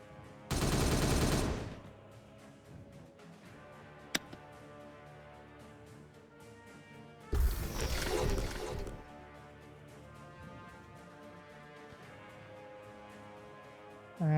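Gunfire in the Warhammer 40K Regicide game, Space Marines against Space Marines: two loud, dense bursts of rapid shots, each lasting about a second, with a quieter stretch of background ambience between them.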